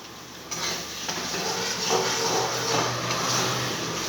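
Pasta with chili sauce being stirred in a frying pan, a steady sizzle with scraping utensil strokes and light clinks against the pan, close and continuous.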